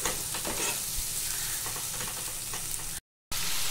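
Pieces of prawn and fish sizzle and fry in hot oil in a pan, a steady close crackle with occasional stirring scrapes and a brief silent cut near the end, without talking.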